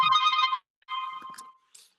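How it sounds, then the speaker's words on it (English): A mobile phone ringtone plays loudly nearby in bright melodic bursts, one phrase then a second after a short gap, with a brief final chirp. "Yeah, that's my phone."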